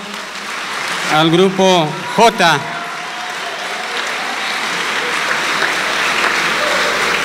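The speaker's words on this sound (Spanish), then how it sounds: "Un aplauso" Graduation ceremony applause at CBTis 1 in Fresnillo, a crowd clapping steadily at moderate distance while a voice speaks briefly over it near the start.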